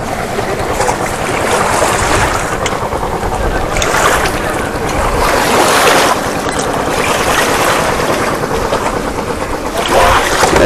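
Small fishing boats on the Padma river bringing in a catch, heard as continuous broadband wind and water rush with engine-like rumble, steady and fairly loud throughout with no clear voices.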